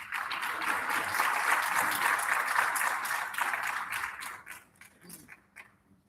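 A round of audience applause follows a speech at a waste innovation challenge launch, dense clapping that stays steady before thinning out into a few scattered claps and fading near the end.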